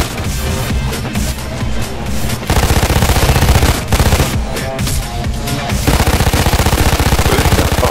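Automatic gunfire from the heist shooter Payday 2, rapid machine-gun bursts hammering loudly and almost without pause, with brief gaps between volleys.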